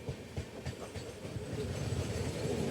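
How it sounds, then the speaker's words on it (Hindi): The Hisar Coimbatore Express rolls past on the rails, a close, steady rumble with rhythmic clickety-clack from the wheels that grows slightly louder as it goes by. "देखिए इसी वजह से हमारी ट्रेन रुकी हुई थी, हिसार कोयम्बतूर एक्सप्रेस"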